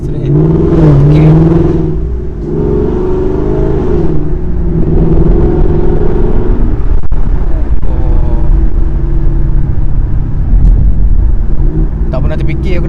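A 2015 Ford Mustang GT on a test run, heard from inside the cabin as a steady loud engine drone that rises and shifts in pitch, with people talking over it.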